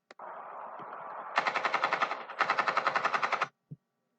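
Automatic gunfire in an animated show, a steady rattling stream of rapid shots that grows louder and sharper partway through, then cuts off, followed by a single short thud.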